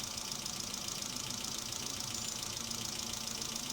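A Hyundai Santro Xing engine idles steadily after a thermostat valve replacement, giving a continuous, even mechanical hum with a faint knocking texture and no voices.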